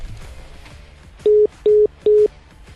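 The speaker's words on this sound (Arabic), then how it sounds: "طيب السكه قطعت" Three evenly spaced, loud beeps signal a dropped telephone line during a live call-in on a sports TV programme, with low murmuring underneath before the tones.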